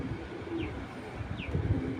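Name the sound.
pigeon cooing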